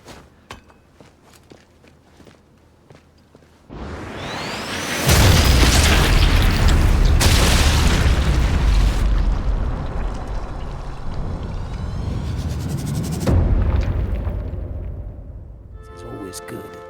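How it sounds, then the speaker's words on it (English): A thrown grenade detonates in the World War II shooter Sniper Elite: Resistance, a sudden loud boom followed by a long rumbling roar of blast and debris that fades over several seconds, with voice talking over the game. "We're just gonna take a grenade and toss it right into them."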